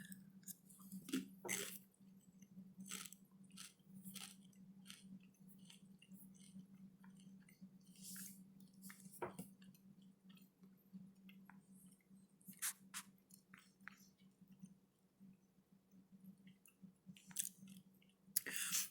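Noodles dipped in spicy vegan chili oil bitten and chewed up close, with a string of soft wet squishing and clicking chews over a steady low hum, no voices.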